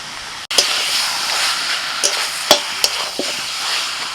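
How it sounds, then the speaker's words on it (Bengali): Mutton sautéing in a pan with tomato, turmeric and dry red chili paste gives a continuous close sizzle and hiss, with a few scraping stir strokes and small pops over it. "আরও কিছুক্ষণ কষিয়ে নিয়ে এবার দিয়ে দিচ্ছি শুকনো লঙ্কা বাটা"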